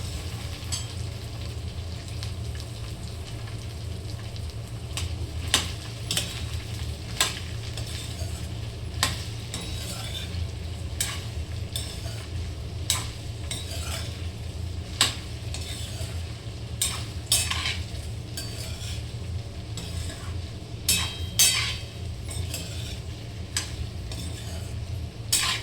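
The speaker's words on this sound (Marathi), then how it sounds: "आता हिला छान अशी मिक्स करून देऊ, मस्त हलवून घेऊ हिला, सगळी मिक्स झाली पाहिजे" Chopped okra is stirred in a hot pan, with a continuous low sizzle under repeated close scrapes and clinks of a spoon against the metal, spaced every second or so.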